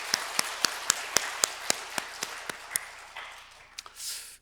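A church congregation at a Sunday morning service claps in quick, evenly spaced beats that gradually soften and trail off into quiet.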